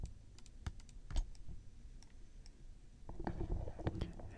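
A computer keyboard and mouse in use for Blender edge selection, with sparse light clicks and taps, close and quiet, picking up into a busier cluster of clicks toward the end.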